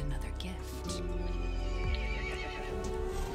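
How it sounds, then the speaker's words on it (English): A horse whinnies in a horror video game, a long tonal neigh rising and falling over droning background music, with a voice talking at the same time. "The horse says no, bitch."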